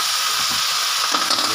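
Clams dropped into a hot pan for tinola set off a loud, steady sizzle that swells briefly with crackling bursts as the shells land, with no talking.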